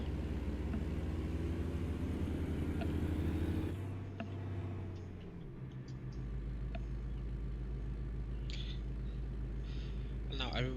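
Kenworth truck in American Truck Simulator, a deep steady engine drone that drops and shifts partway through, then settles into a low rumble under someone talking.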